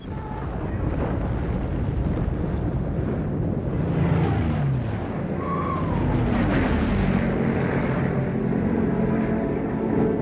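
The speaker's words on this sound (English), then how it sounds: "They're tank busters, sir. P-51s." Propeller roar of P-51 fighter planes in a war film scene, a loud continuous drone with rushing wind that swells and shifts as the aircraft pass, with faint background noise and no clear speech.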